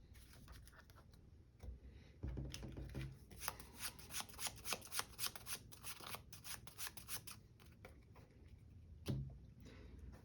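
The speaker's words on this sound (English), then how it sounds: "so just do my little shuffle" Marvel Champions playing cards are shuffled by hand at close range, giving soft riffling bursts and quick rhythmic flicks and taps that come in clusters over several seconds, quiet and without talk.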